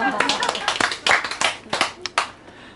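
An audience at a lecture on children's vegetarian nutrition gives a short, uneven round of hand claps, close and fairly loud, with people talking over and between the claps.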